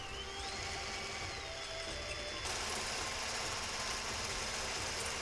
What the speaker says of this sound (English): Then we need to have some whipped egg whites.